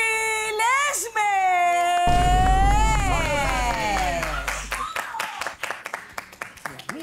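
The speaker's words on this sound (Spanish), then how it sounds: "Un fuerte aplauso para nuestro amigo Santi Lesme." A studio audience on a celebrity cooking competition TV show breaks into clapping for an arriving guest after a sustained, tonal voice or musical phrase; the applause is loose and uneven, with sharp individual claps toward the end.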